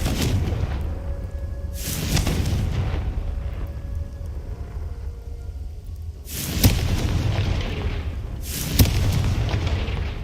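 Blasting-spell explosions from Hogwarts Legacy land as deep, loud booms, four heavy blasts spaced a few seconds apart over a low rumbling game backdrop, with no speech.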